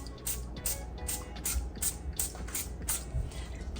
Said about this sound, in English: 12 sprays from my sprayer is a teaspoon of oil